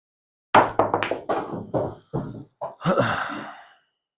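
Pool cue jump shots on a billiard table: a run of sharp, close knocks and thuds as the cue strikes and the balls hop and land, spaced unevenly over a few seconds with no talking.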